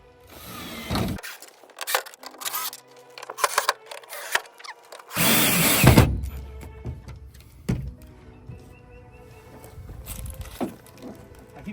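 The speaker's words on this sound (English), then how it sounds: "So I'm just gonna screw down all these bolts and then we'll be good to go." Power drill driving bolts into a truck tailgate during an install, heard as several short bursts with one longer loud whir in the middle, set among clanks and handling noises close by.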